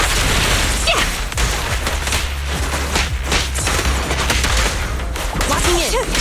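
Gunfire and explosions in Zenless Zone Zero, an action game. The shots come as dense, loud, continuous bursts over a steady roar, with a few heavier booms mixed in.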